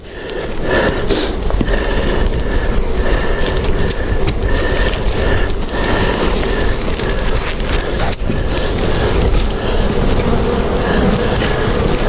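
A swarm of honeybees in a skep hums as a dense, steady buzz that holds at an even level throughout, close by, with no talk over it.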